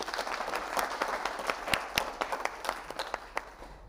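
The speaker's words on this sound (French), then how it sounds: "Donc on applaudit pour vous-même." An audience applauds with a burst of scattered clapping from a modest crowd, individual claps standing out as it thins toward the end.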